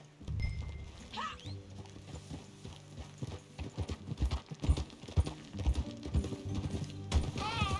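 Horse hooves clip-clop at a walking pace in Red Dead Redemption 2, joined by game dialogue, creaking tack and a brief whinny, with background music under the steady hoofbeats.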